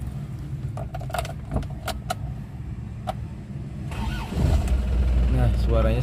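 Keys jangle inside a 2003 Isuzu Panther, then its diesel engine cranks and catches, settling into a low, steady idle rumble near the end; a voice talks briefly over the jingling.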